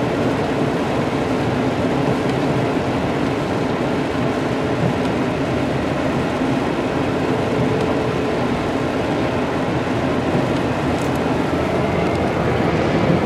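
A Toyota Tacoma pickup on the move, a steady, close cabin drone of engine and road noise that holds evenly throughout with no voices.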